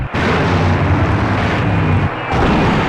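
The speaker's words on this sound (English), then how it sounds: "Now that's an explosion, ladies and gentlemen." A loud, sustained explosion from the PC adventure game Full Throttle, a dense rumbling roar filling the whole clip with a brief dip near the end before the blast noise swells again.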